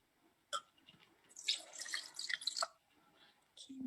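A little water is poured into a container to start a breakfast shake, giving soft splashy trickles and drips in short bursts. It is quiet and close, with brief pauses between the pours.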